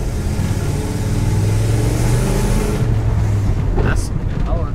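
A Dodge Coronet cruising down an old road, its engine a steady, loud drone with rising revs as it accelerates and shifts, close and continuous throughout.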